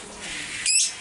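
At a small lovebird breeding farm, a bird gives one brief, sharp, high chirp close by, with a soft airy background before it.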